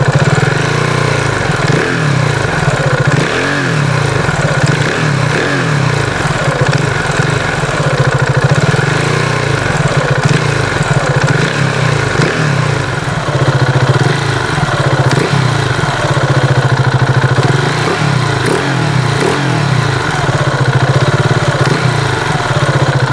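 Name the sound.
KTM Duke 690 motorcycle engine idling, DNA airbox cover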